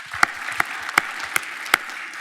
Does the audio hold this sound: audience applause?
yes